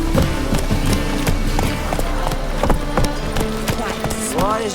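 A horse gallops in The Witcher 3 with rapid, rhythmic clip-clop hoofbeats throughout, close and prominent, with game music and a voice speaking over it.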